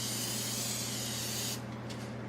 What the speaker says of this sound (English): Make sure you spray your pan that you put it in.